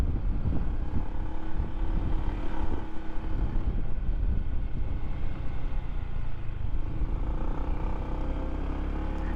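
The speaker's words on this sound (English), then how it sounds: "This scooter kind of sounds like a golf cart" A scooter motor drones steadily near a golf course, a continuous low hum like a golf cart, mixed with heavy wind rumble across the microphone.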